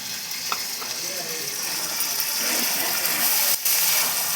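Mutton curry stirred in a pot with turmeric, salt and coriander, giving a steady broadband sizzle with soft scraping, close and continuous, no talk.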